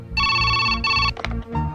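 A telephone rings in a hotel room, with two loud electronic ring bursts close up, followed by brief other sounds.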